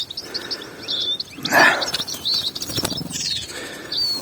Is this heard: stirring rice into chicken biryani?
no